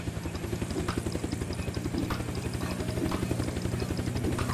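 A helicopter in the video game Unturned thuds with fast, evenly spaced rotor pulses over a steady mechanical drone, loud and close, with no talking.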